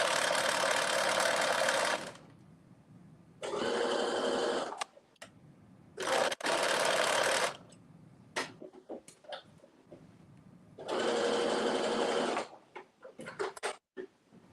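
A sewing machine stitches a ruffled kaftan in several loud bursts, three long runs and a shorter one, separated by quiet pauses filled with small handling clicks and taps.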